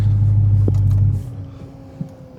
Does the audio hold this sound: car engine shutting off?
yes